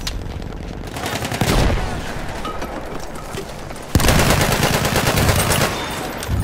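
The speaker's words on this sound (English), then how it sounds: "machine gun! One of theirs!" Rapid bursts of machine gun fire in the Battlefield 1 Conquest multiplayer match in Argonne Forest, loud, dense rattling rounds that pause briefly then resume with a sharp heavy onset.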